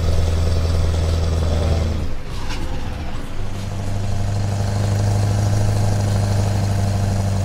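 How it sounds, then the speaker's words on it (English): A heavy truck in Euro Truck Simulator 2 pulls a 24-meter tandem trailer, its engine droning steadily and loudly, dipping during a gear change around the middle before settling back into a revving hum with a faint whistling whine above it. "More turbo whine."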